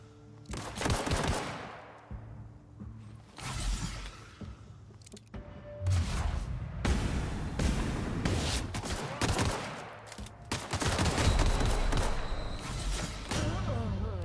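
Rifle gunfire in The Outer Worlds comes in loud bursts of rapid shots separated by brief lulls, close and punchy, with a player talking at times over the action.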